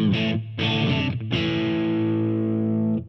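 An electric guitar played through an MXR Duke of Tone overdrive pedal: three loud, distorted chords, each ringing out, the last one sustaining and slowly decaying for about two seconds.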